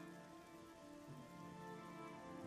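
Steady rain falls in the fantasy game The Elder Scrolls IV: Oblivion, a continuous hissing patter on surfaces with a low background hum, even and unbroken throughout, with no voices.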